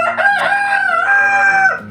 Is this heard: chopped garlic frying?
no